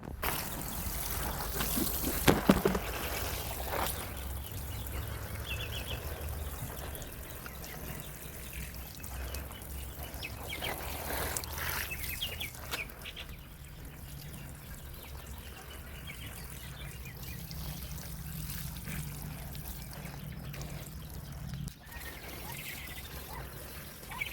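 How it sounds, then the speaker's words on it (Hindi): Water poured from a container into potted bougainvillea cuttings, a steady trickle and splash running almost continuously at moderate level, with faint birdsong in the background. "अब डालते हैं इन सभी पॉटों में पानी।"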